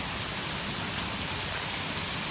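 Penny-size hail and rain pelt the ground during a severe storm with 40 mph winds, a dense, continuous hiss of impacts at steady loudness with no voices.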